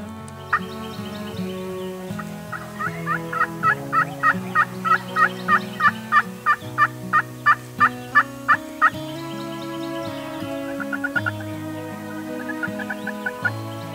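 A series of turkey gobbles repeats in a steady run near the middle, with softer gobbles before and after over a low ambient background.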